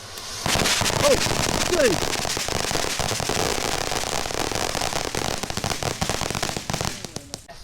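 A firework bursts into a long, dense run of crackling pops that lasts several seconds before tapering off, close and loud, while people exclaim over it.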